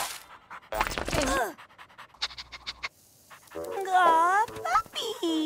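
An animated cartoon puppy pants in quick rhythmic bursts and lets out high whimpers, close and loud, alternating with animated character voices.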